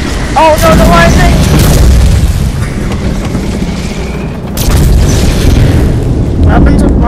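A person talks, then a loud crackling lightning strike in LEGO Fortnite bursts out during a storm, rumbling briefly before fading under a steady background.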